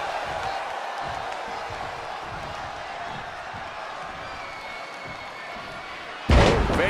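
A Memphis wrestling crowd keeps up a continuous, fairly distant roar and murmur, and a sudden loud slam or burst of noise arrives near the end.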